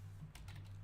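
A few quick keystrokes on a computer keyboard while playing Minecraft, faint, soft clicks over a low steady hum.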